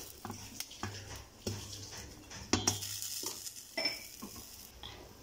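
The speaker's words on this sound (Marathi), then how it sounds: "ड्रायफ्रुट्स आपल्याला थोडेसे भाजून घ्यायचे आहेत तुपामध्ये" Dry fruits roasting in ghee in a pan for sugar-free khajur modak, with a soft steady sizzle broken by repeated scraping stirs and light clinks of a spoon against the pan, fairly quiet and close, no voices.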